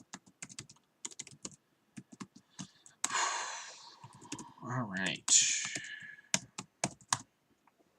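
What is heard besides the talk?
typing on a computer keyboard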